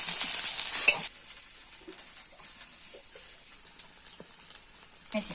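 Garlic chutney frying in hot oil left over from frying bhaji, a loud burst of sizzling for about a second as it hits the pan, then settling into a quieter steady crackle with faint stirring clicks.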